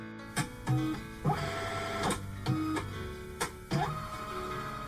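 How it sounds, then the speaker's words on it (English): A mechanical scanner whirs and clunks in a repeating cycle, with motor hums, rising whines and periodic clicks close by. "you know that sound. Yes, scanning documents."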